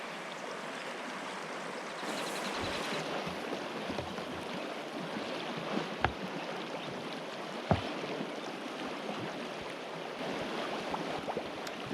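Cold mountain creek water in the Gros Ventre Wilderness runs steadily, a continuous broadband rush close by, with a couple of brief knocks and no talking.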